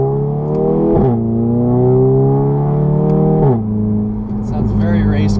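An APR Stage 2 tuned Volkswagen Mk7 GTI engine and exhaust drones steadily from inside the car, with the pitch climbing through gears and dropping at shifts around one and three and a half seconds.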